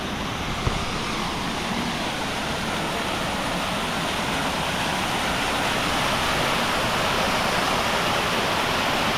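River water rushes steadily beside a hot spring resort on Mt. Isarog, a dense, even hiss of flowing water that stays constant and fairly loud throughout, with no talking.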